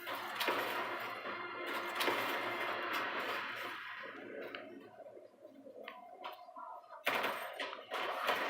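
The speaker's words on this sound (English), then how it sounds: "So as usual, I walk up and shoot a bunch of scorpions." Gunfire from shooting scorpions in the video game Anthem comes as dense, rapid bursts of shots, then thins to sparse ticking and clicks before a final sharp blast. It is fairly faint throughout and plays without speech.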